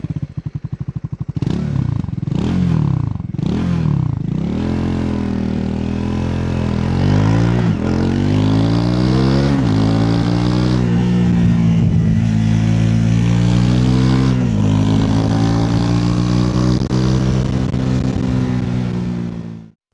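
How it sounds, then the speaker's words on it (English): Triumph 400cc single-cylinder flat-track style motorcycle, about 42 horsepower, ridden in fifth gear: a steady, loud engine drone rising in pitch as it accelerates, with a few blips at first and no talk. "Triumph's single-cylinder engine is really very flexible. You can see it now. I am riding in 5th gear at the moment"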